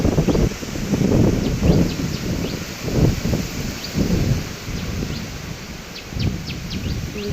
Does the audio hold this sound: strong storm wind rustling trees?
yes